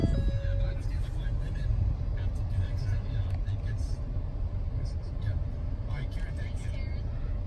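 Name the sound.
2017 Ford Expedition EL Limited engine starting up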